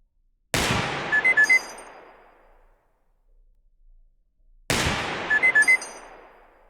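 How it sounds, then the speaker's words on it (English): Two sharp, loud gunshots in the shooting game Receiver 2 during target practice, spaced a few seconds apart, each ringing out with a long decaying tail and a faint metallic clink. "We are shooting a bit low"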